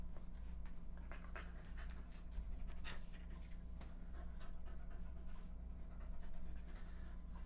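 A dog pants steadily and rapidly close by for several seconds, with a faint whimper now and then over a low household hum.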